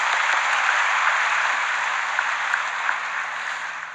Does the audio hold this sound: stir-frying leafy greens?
no